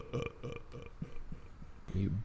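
A man's loud, low burp at the end, after faint speech and laughter on a podcast recording.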